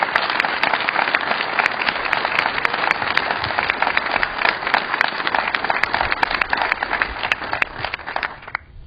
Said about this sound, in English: have another round of applause for the band.